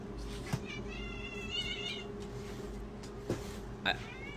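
A cat meows a few times in short, mid-loud calls over a steady background hum, with brief clicks and knocks around them.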